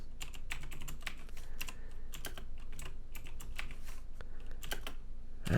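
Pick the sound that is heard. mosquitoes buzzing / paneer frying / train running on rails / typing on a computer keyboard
typing on a computer keyboard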